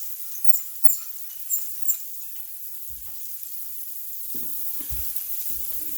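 Homegrown mushrooms seasoned with salt and pepper fry in a pan, a soft steady sizzle running throughout with a few sharp clinks early on and low stirring bumps near the end.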